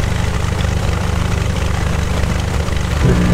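A Cessna 172 engine idles steadily while the plane taxis, its propeller drone close and loud throughout, with a deeper rumble swelling near the end.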